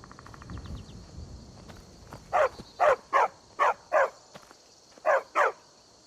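A dog in the video game Skyrim barks seven times in a loose rhythm, each bark sharp and fairly close, over a steady high ambient game hum with faint footsteps earlier.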